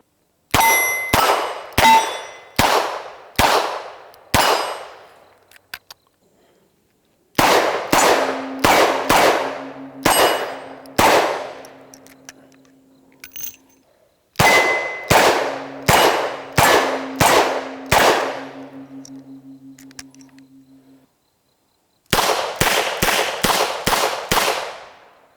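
Smith & Wesson Model 19 snub nose revolver fired outdoors in four strings of sharp, loud shots, five or six reports each in quick rhythm, with pauses between strings and a faint hum in some gaps.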